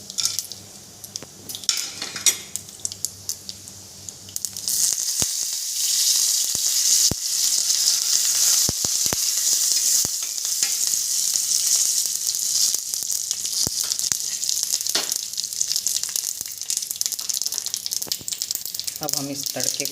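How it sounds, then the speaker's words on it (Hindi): Mustard seeds, roasted chana dal and curry leaves are dropped into hot oil for a tempering, bursting into a loud, steady sizzle with sharp popping crackles, preceded by quieter clatter and light kitchen noise before the oil takes over. "अब हम इसमें तड़का लगाएंगे। इसके अंदर राई और भुने चने की दाल और मीठा नीम का पत्ता डालेंगे।"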